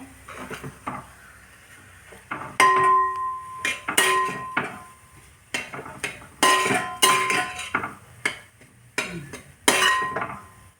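Jackfruit and coconut curry stirred in a metal pot, the ladle clinking and scraping against the sides in uneven bursts, close and fairly loud.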